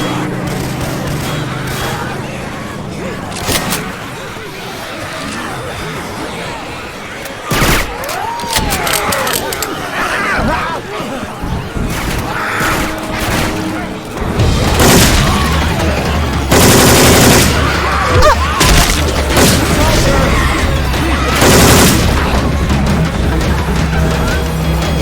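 Rapid gunfire from Left 4 Dead 2 played with Syphon Filter weapon sounds, loud bursts and single shots amid zombie-fighting game noise, with players talking over the action throughout.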